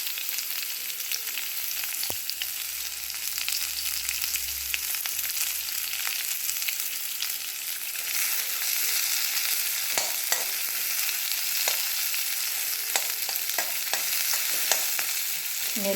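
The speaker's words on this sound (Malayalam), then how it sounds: "ഗീലാണ് വറവിടുന്നത്. ഒരു വലിയുള്ളി, എല്ലാം നീളത്തിൽ മുറിച്ചതാണ്." Sliced onions fry in ghee for a mutton stew, giving a steady close sizzle with occasional clinks and stirring scrapes throughout, and nobody speaks.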